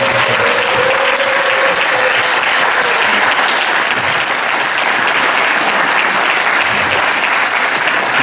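A church congregation applauding at a year-end service, dense, loud sustained clapping from many hands that continues steadily throughout.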